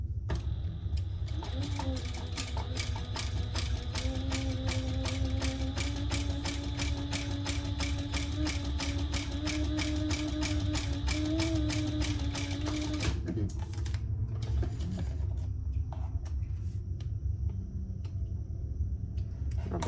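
A sewing machine stitches in a fast, even run of mechanical ticks for about thirteen seconds over a low motor hum, then stops and leaves a few faint clicks and handling sounds.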